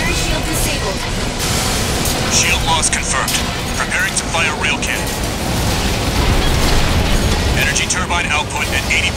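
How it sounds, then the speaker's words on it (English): Rail cannon firing in the mech combat game Armored Core VI, a dense roaring, rumbling blast with mechanical whirs and bursts sustained loudly throughout, with a voice speaking over it. "Preparing to fire rail cannon."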